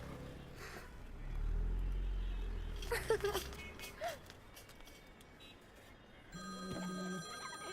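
A telephone rings at low level amid background noise and a brief low rumble, with a steadier electronic ringing tone near the end, in a Hindi film scene.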